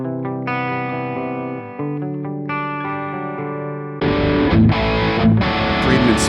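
Electric guitar through a Friedman small box amp model, sustained chords with effects and a clean-ish tone that jumps to a louder, more distorted strummed passage partway through.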